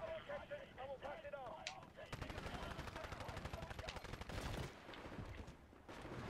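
Weapon fire in the first-person shooter Titanfall, heard as rapid, closely spaced automatic bursts from about two seconds onward after sparser shots, loud and up close over game effects.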